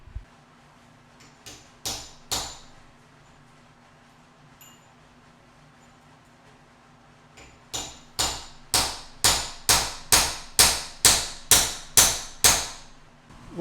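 A valve guide tapped into a cracked engine head with a hammer, a few sharp metallic taps early, then a steady run of about a dozen evenly spaced ringing strikes, close and loud.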